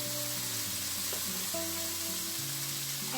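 Ground pork sizzling in a pan right after a splash of boiling water goes in, a close, steady broadband hiss and crackle that holds evenly throughout with no talking.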